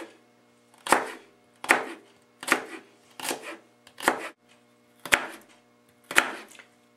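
A knife chops through a vegetable stalk on a cutting board for a casserole, seven crisp, separate strikes spaced evenly about once every three quarters of a second, close and clear against a quiet kitchen hum.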